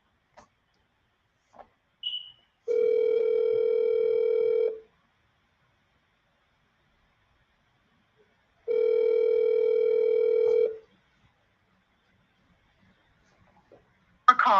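An outgoing phone call rings unanswered: two long, steady electronic ringback tones several seconds apart in an otherwise quiet room, with faint clicks before and a brief noise at the end.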